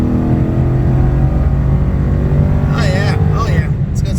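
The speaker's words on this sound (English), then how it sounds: "Let me go wide open throttle real quick before I do a standing, launch and see how much max spark is." A 2015 Ford Mustang with a 6R80 automatic on an E85 tune drones loudly and steadily at wide open throttle, its engine note rising toward the end as a voice speaks over it.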